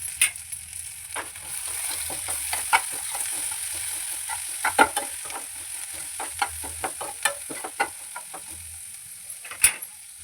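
Onions fry in a pan for radish chutney, with a low continuous sizzle and frequent sharp scraping taps of a spatula stirring against the pan, close and fairly loud.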